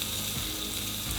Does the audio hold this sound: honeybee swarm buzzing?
no